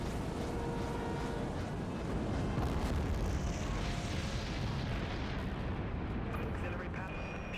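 A massive nuke explosion in the naval sci-fi video game Dreadnought, heard as a continuous loud rumbling roar with crackling debris that holds steady for several seconds, no voices over it.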